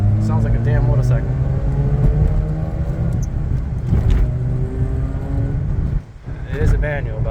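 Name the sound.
Mazda RX8 rotary engine car driving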